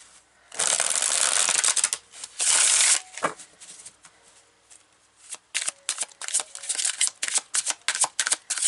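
Tarot cards are shuffled up close in loud riffling bursts, followed by a run of quick, sharp card slaps and flicks.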